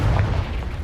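A Confringo explosion spell from a Harry Potter video game lands as a loud, deep, booming burst, heavy in the low end and cut off within a second.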